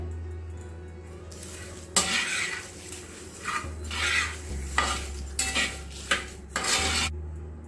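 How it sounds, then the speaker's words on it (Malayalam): A spoon scrapes and clinks against a metal pan in short bursts, mixing roasted coconut with salt, with a low steady hum running throughout. "ഉപ്പൂടെ ചേർത്തിട്ട് നമുക്കൊന്ന് മിക്സ് ചെയ്യാം"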